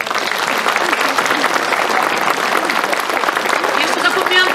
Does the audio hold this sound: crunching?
no